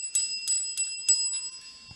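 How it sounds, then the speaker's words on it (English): A handheld bell rung by a preacher during a Sunday feast gathering gives four or five bright metallic rings in a steady rhythm, close and clear, with no talking. "So I ring the bell."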